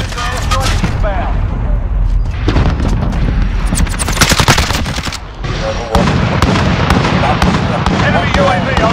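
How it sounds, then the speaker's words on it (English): Airstrike explosions in Modern Warfare multiplayer hit as loud, dense bursts of booms and rapid gunfire-like cracks, with a short lull midway before the barrage resumes. "Nearby, friendly position airstrike inbound"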